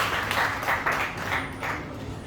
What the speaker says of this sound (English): With a huge applause, Sameer and Abhishant.